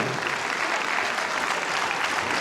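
Concert audience at a grand solo concert by a Georgian dance ensemble applauding, a dense continuous wash of clapping from a large crowd, steady and loud throughout.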